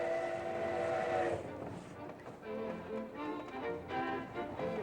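A steam train on the Panama Railroad sounds a loud sustained whistle, then rolls on with clanking, rumbling carriage noise and shorter whistle tones, close by.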